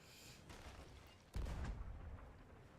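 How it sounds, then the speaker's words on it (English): Ship cannons in the video game Sea of Thieves: a distant rumbling shot, then one sudden loud, close boom that rolls off into a fading rumble. "just unrelentingly shooting cannons at them"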